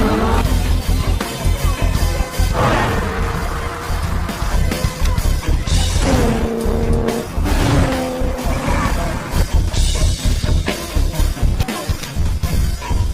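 Cars tear through an illegal street race in a film scene. Loud engines roar and tires squeal in repeated surges, layered with other film sound and no clear talk.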